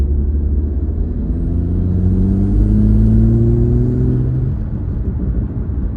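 Toyota GR Supra engine held at about 1,000 RPM in fifth gear, a steady low droning rumble from inside the car with rising tonal engine harmonics that swell then fade, no talk.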